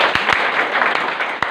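Audience clapping for participants at a group play-and-learning activity, a dense steady patter of many hands lasting throughout, moderately loud and close.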